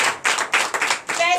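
A church congregation claps in acclamation of the Lord during a Sunday service in Comè, Benin: rhythmic bursts of hand claps in waves, fairly close and moderately loud, with a brief tonal note near the end.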